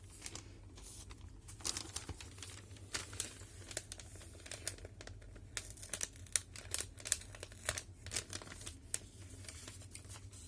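A large paper envelope handled up close and torn open, with dense crinkling, rustling and tearing in irregular bursts, soft and intimate, no voices.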